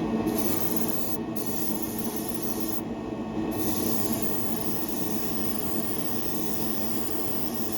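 Kaleido Colorworks spray paint applied in light to medium coats, a steady, close, continuous aerosol hiss lasting several seconds with only brief pauses in its brightest edge.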